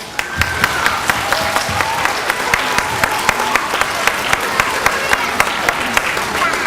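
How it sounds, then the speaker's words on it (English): Students and staff at an elementary school assembly clap together, loud and close, with sharp individual claps popping out of the steady applause and some chatter mixed in. "So let's give them all a round of applause"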